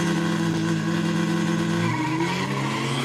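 VR38-powered Datsun 1200 drag car from Sydney racing a blue Ford Falcon at a Quick Street drag meet, loud sustained engine roar with layered droning tones that shift and rise toward the end, no talk.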